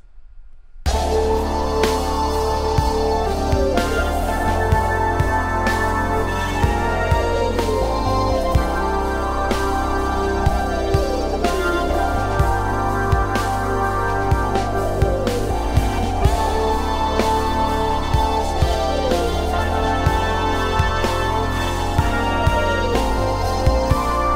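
A song plays with a full band, processed through a T-RackS Black 76 compressor: steady drums, bass and sustained synth chords with sweeping tones, loud and continuous after a brief silent start.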